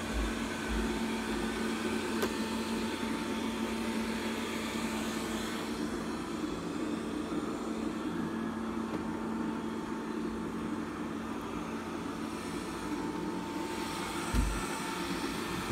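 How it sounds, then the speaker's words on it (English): A Robit V7s Pro robot vacuum cleans a room, giving a steady, continuous motor whir and brushing hum up close with little change over fifteen seconds. "Vacuum goes back to cleaning again."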